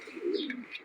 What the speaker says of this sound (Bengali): এই যে কবুতরগুলো প্রথমবারের মতো উপরে উঠলো